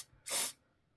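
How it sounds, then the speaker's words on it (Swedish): A single short burst of release spray hisses from a can into a balloon to keep epoxy resin from sticking, close and alone in a quiet room. "Så vi sprayar dit lite till."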